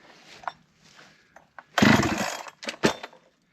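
A chainsaw is pulled several times with short sputtering bursts, then catches and roars loudly for under a second before dying, followed by a few more brief pulls and sharp revs, close and alone without talk.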